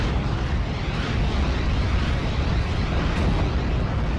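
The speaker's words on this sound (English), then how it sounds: "Here goes my Calliope, firing away once again." Continuous heavy rumbling blasts of a Calliope rocket launcher firing in the Steel Division: Normandy 44 war game on Omaha, a dense, loud barrage with no breaks.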